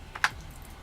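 A gaming keyboard gives one or two quick, close key clicks, a short sharp tap standing out from a quiet room.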